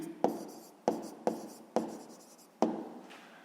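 A pen strikes and scratches across paper in five sharp, separate strokes, each fading quickly, while someone writes out a sixth-grade math exercise in a quiet room.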